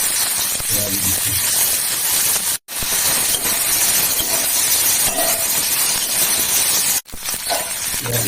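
Onions frying in hot oil for a homemade chicken curry give a continuous loud sizzle and hiss, broken by two brief silences, with a voice talking faintly underneath.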